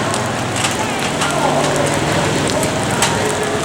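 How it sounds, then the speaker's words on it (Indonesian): Rain falls on surfaces at an outdoor market in Lambaro while illegal stalls are being torn down. A dense, loud, continuous hiss with scattered crackling drops runs throughout. "Masih di tengah kondisi cuaca hujan."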